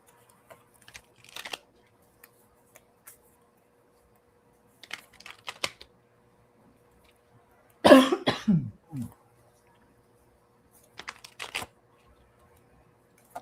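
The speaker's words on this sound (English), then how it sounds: "this cough just feels like it's so deep in my lungs now" A single deep, rough cough in a quiet room, with a few faint taps and clicks scattered before and after.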